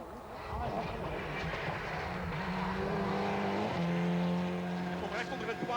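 A rally car races flat out on a long special stage of the 1999 Ypres Westhoeck Rally. Its engine note rises and shifts through the gears under a commentator's voice.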